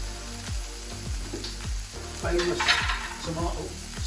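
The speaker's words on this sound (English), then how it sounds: "I'm going to get ready to pop in my fresh tomatoes." Fresh San Marzano tomatoes hit a hot pan for an aubergine stifado, giving a loud close sizzle that swells as they land, with a series of rhythmic thuds and stirring scrapes repeating about every half second.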